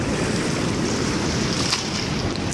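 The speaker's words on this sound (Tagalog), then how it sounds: "Lakas ng alon." Strong sea waves surge continuously along a coastline behind a house, producing a loud, broad roar of surf mixed with wind buffeting the microphone, with no voices.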